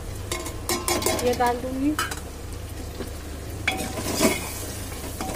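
Ground turmeric, chili, coriander and cumin hit hot oil in a frying pan with a soft steady sizzle, while a spoon stirs and scrapes against the metal. Someone briefly speaks over the cooking noise.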